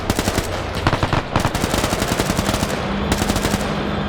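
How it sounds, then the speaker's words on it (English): Tank machine guns fire in a WW2 video game, rapid bursts of loud, closely spaced shots rattling in sustained strings with brief pauses between volleys. "Why are you using your machine guns against each other?"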